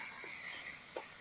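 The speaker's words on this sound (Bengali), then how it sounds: "পেঁয়াজটা একটু হালকা নাড়াচাড়া করে নেব" Chopped onions sizzle and hiss in a hot frying pan after whole cumin tempering, with two soft scraping stirs standing out briefly above the steady frying noise.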